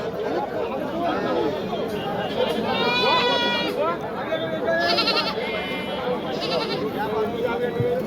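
Goats bleat several times amid a busy livestock market crowd's steady chatter, the animal cries rising over the constant murmur of many people.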